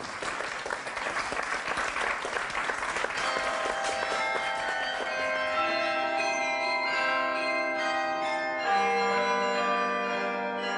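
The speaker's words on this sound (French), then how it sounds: "Le carillon, c'est un instrument un peu magique, un peu mystérieux et extrêmement gratifiant" The carillon of the Collegiate Church of Saint-Vincent in Soignies rings out a melodic tune, overlapping tones sustaining and blending, with a wash of crowd noise fading early on.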